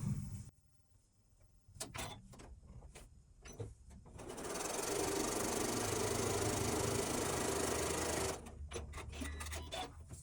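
A sewing machine runs in one steady, loud stretch, stitching quilt fabric squares into half-square triangles along both sides of a diagonal, framed by brief clicks and handling noises before and after.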